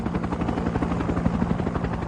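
Helicopter rotor chop from the Vietnam War era, a steady rapid thumping beat with engine drone, loud and continuous throughout.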